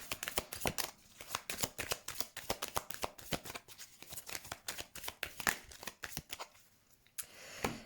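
A deck of tarot cards is shuffled and then cut, giving a steady run of close, crisp riffling flicks and slaps for several seconds before a brief pause and a final burst of shuffling.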